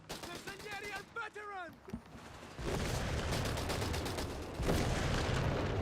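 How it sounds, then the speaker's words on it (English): Airburst artillery barrage in Company of Heroes 3 lands as a dense, sustained roar of rapid bursts over a victory point, following an earlier stretch of speech and crackling shots. "Airburst barrage comes in on the VP."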